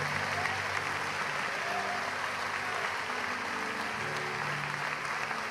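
Sustained applause from a church congregation in a Portuguese-language service, a thick, even roar of clapping lasting several seconds over soft held keyboard-like tones, with no distinct voices.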